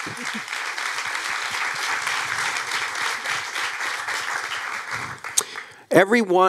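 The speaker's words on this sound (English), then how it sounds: "Let's give them a big round of applause." Sustained audience applause fills a Q&A event for a documentary film series, steady dense clapping for several seconds before thinning out, followed by a brief burst of voices at the end.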